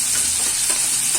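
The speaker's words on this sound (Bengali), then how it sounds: "এখানে কচু আর আলু যে ভাজা করছি" Taro and potato pieces fry in hot oil in a wok, giving a steady, close hiss of sizzling with faint stirring scrapes throughout, no voices.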